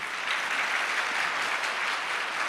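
Audience applause fills a spiritual gathering hall, a dense, steady wash of many hands clapping at once, loud and continuous with no voices over it.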